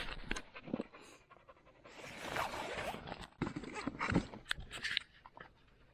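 Dog of about 20 kilos panting hard inside a bicycle trailer, a steady close rhythm of quick breaths mixed with rustling and small clicks, with no talk.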